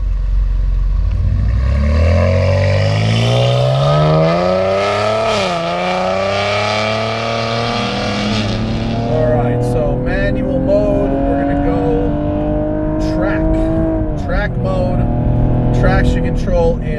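A tuned 520 wheel-horsepower Cadillac ATS-V driving hard, its engine loud and close as it climbs through the revs, dips on gear changes and keeps pulling, with talk over it.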